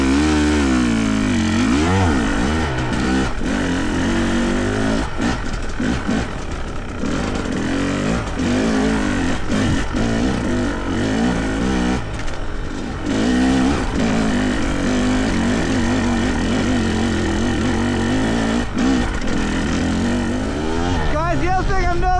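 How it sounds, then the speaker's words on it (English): A Fantic XE300 dirt bike engine while riding on a Colorado trail, loud and close with wavering revs rising and falling throughout, and a rider's voice talking over it at times. "the other thing I'm noticing about this bike is that it is much smoother vibration-wise than the YZ"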